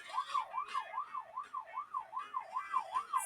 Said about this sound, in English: They all climb aboard the fire truck and turn on the siren and lights.